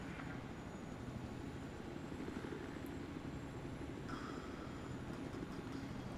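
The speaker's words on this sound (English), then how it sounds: "Now he's driving the helicopter." An attack helicopter in Battlefield 4 gives off a steady, low rotor-and-engine drone that holds an even level throughout, with no one speaking over it.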